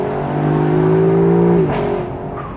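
A Lexus LC500 convertible's engine revs hard for about two seconds. Its tone climbs and holds, then drops away as the throttle is released, loud and close.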